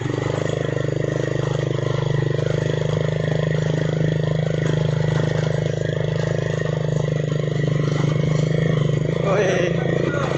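An old abandoned motorcycle found in the woods idles steadily and loudly up close, a continuous rough engine drone with some clatter, and voices murmuring faintly underneath.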